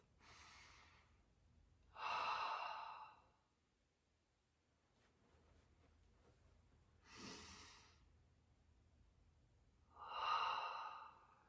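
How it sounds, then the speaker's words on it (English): A person practicing yoga-style breathing draws slow breaths in through the nose and out through the mouth, four distinct airy breaths spaced a few seconds apart, close and soft with quiet pauses between. "I can breathe in through my nose and out through my mouth."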